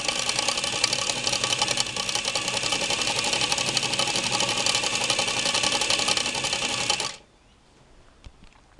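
A Singer 237 sewing machine running with a fast, steady mechanical whir and rapid stitching clatter for about seven seconds close up, then cutting off abruptly into near quiet with a faint click.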